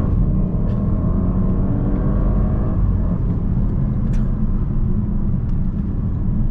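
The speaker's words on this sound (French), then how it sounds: "on entend quand même le V8, mais de loin" Muffled V8 engine of a stage 1 tuned Audi S8 heard from the cabin while cruising, a steady low drone and rumble with road noise, distant and continuous.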